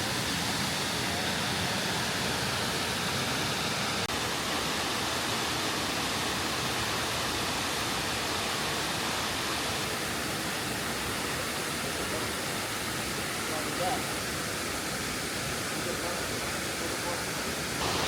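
Hanging Lake waterfall in Glenwood Springs, Colorado, a steady broadband rush of falling water, close and constant with no pauses.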